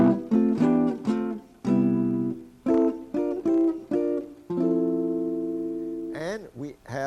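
Four-note chords on a guitar in chord-melody style ring out one after another, fuller plucked chords with sustained decays, some short and some held, played alone.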